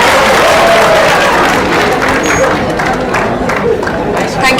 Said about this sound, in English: Let us give a big round of applause for Keshav Agarwal, sir.